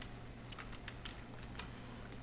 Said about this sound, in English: now you have to type another command